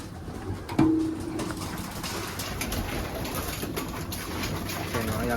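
Young racing pigeons, about forty birds kept in a loft, coo softly and continuously from close by, with one louder note near the start and a low steady hum underneath.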